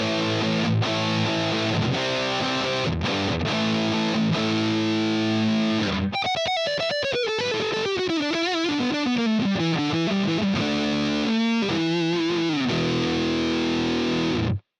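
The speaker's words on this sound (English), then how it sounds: "The 89 SL100 models are based on the Soldano SLO 100 Super, another great amp for rock and heavy metal tones." Distorted electric guitar through a Soldano SLO 100 Super amp model, heavy rock and metal tone: chugging chords give way to a sliding, bending lead line, steady and loud throughout.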